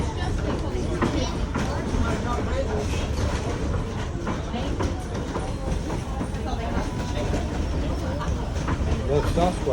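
A train crossing a trestle bridge rumbles steadily with rhythmic clickety-clack of wheels on the rails, a continuous rolling noise with faint voices murmuring in the background.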